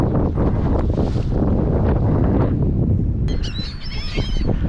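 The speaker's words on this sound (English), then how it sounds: "wind's picking up" Wind gusts across a microphone on a fishing boat out on the water, a loud, constant buffeting rumble, with birds honking and calling near the end.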